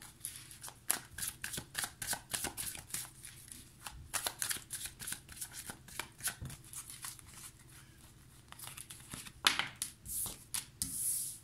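Tarot cards shuffled by hand in a steady run of quick riffling flicks and taps, close and fairly quiet, with short pauses and a brief burst of louder handling near the end, no voices.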